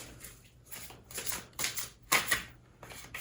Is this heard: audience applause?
no